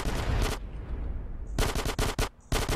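SMG gunfire in Grand Theft Auto: San Andreas, close and crackling, with a rapid burst, a short pause, then several more quick chattering bursts.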